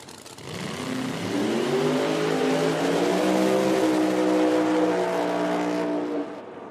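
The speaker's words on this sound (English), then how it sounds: "You could hear the car leave the start line, then the engine RPMs pick up after it got out there a ways" A drag racing car at an IHRA Outlaw Nitro spring nationals event leaves the start line, its engine roaring loudly as the revs climb steadily for several seconds before fading.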